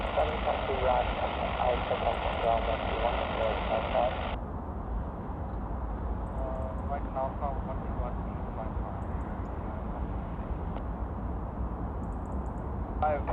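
Emirates Airbus A380-861 engines during pushback and start on a stand at Manchester: a steady, loud roar fills the clip, with air traffic control radio talk running over it.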